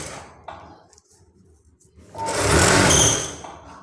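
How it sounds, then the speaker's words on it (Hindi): A sewing machine stitches the edge of a blouse, a loud close whirring run of about a second and a half after quieter handling sounds. "ये देखिए वापस वो हमने किनार का टाँका लगा दिया है"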